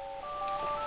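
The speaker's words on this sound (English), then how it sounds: "Sorry, that's my phone." A mobile phone rings with a brief, steady electronic tone made of several pure pitches sounding together. It is clear and heard alone.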